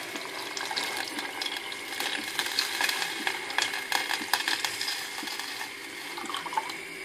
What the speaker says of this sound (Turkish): Ve 1 litreye yakında suyumu ilave ediyorum.